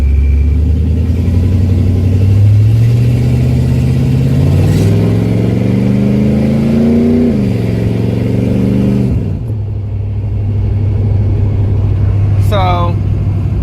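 A car engine revs up for a burnout, climbing steadily for several seconds before it cuts off, settling back to a low idle and then rising briefly again; the sound is loud and close, with talk heard over it.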